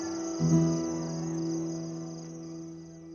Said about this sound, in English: The house finally falls silent, except for the sound of crickets and jackals outside.